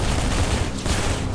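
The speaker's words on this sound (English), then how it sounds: "Ooh, miniguns." Minigun fire in the Halo 3 video game roars as a dense, continuous wall of rapid shots, loud and unbroken, with no clear gaps between rounds.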